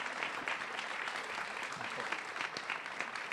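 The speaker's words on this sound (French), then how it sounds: "il faut applaudir beaucoup, beaucoup." Theatre audience applauding steadily, a dense wash of many hands clapping at moderate loudness with no break across the whole stretch.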